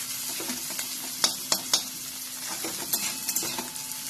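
Mixed vegetable tikki mixture stirred in a hot pan, a soft continuous sizzle broken by several sharp scraping clacks of a spoon against the pan, close and without speech.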